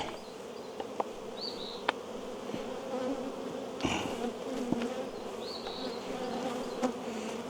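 Honeybees being moved into a new 10-frame hive in an apiary, a dense, steady buzzing hum of many bees close by, with occasional louder passes of single bees and faint knocks, no talk.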